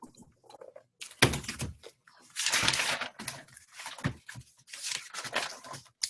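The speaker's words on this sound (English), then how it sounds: "Do I hear note shuffling?" Paper notes shuffled by hand during a virtual sixth-grade class session, heard as irregular dry rustling and crinkling bursts with brief pauses, fairly close and with no talking.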